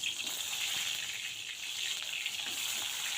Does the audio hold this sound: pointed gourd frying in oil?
yes